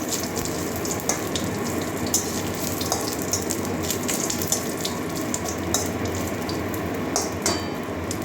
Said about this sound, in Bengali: ভালো করে ভেজে নেবো কারি পাতাগুলো